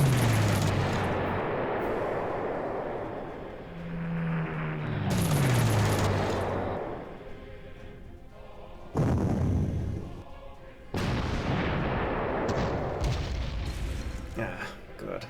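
Bombing runs in the Panzer Corps wargame: bursts of booming blasts and rattling fire in several waves, loud and dense, separated by brief quieter gaps, with speech running alongside.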